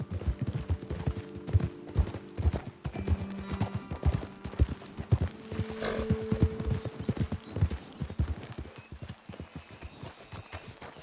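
Horses walk along a trail in Red Dead Redemption 2, their hooves clip-clopping in a steady, close, overlapping rhythm, with a faint whinny partway through.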